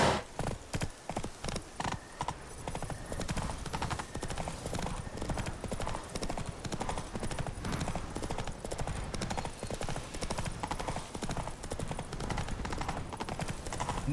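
Horse hooves clip-clop in a steady, continuous gallop rhythm from Geralt's horse Roach in The Witcher 3: Wild Hunt, with game music and ambience underneath.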